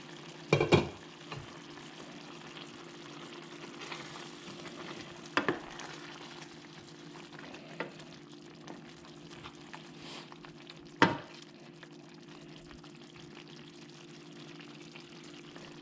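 Catfish fillets sizzle and fry steadily in a pan at close range. A few sharp clanks and stirring knocks of a utensil break in at intervals, and no one speaks.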